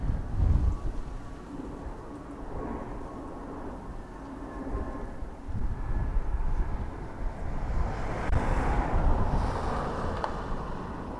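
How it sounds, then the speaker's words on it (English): Gusty wind buffets the microphone at an outdoor airport plane-spotting spot, a steady low rumble that swells into stronger blustery gusts toward the end, with no talking. "Breeze. Getting a little blustery,"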